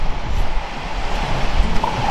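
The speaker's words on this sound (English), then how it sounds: "the wind is kicking up" Strong wind of about 20 mph at a lakeside campsite on Lake Superior buffets and roars steadily, with gusty rumbling pressing against the microphone throughout.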